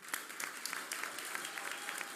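Steady applause from an audience at a political discussion forum, a continuous patter of many clapping hands at moderate level with no talk over it.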